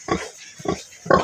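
A pig lets out three short, close grunts spaced across about a second, each a rough, loud burst with brief quiet gaps between.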